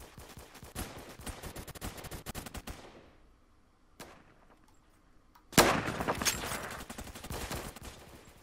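Rapid bursts of sniper rifle fire in the Roblox shooter Phantom Forces, sharp loud cracks in dense volleys, a lull with a single shot, then a heavy blast and renewed gunfire.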